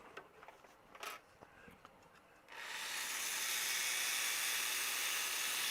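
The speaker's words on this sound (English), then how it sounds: "time for the Dremel" A Dremel rotary tool cuts into the case of a Power Macintosh 6100, first a few faint scrapes and taps, then a loud, steady, high whining grind that holds to the end.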